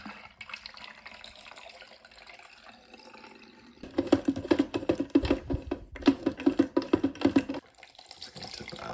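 Stop bath tipped out of a home film developing tank: a quiet lead-in, then several seconds of gurgling, splashing liquid pouring in uneven glugs before trailing off.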